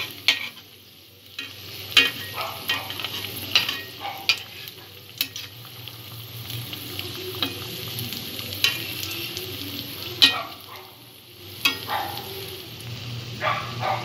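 Paneer cutlets fry in hot oil, turned to a golden brown. A continuous crackling sizzle carries frequent sharp utensil taps and clatters, with no one speaking.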